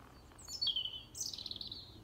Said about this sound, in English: And all you can hear is the birds singing.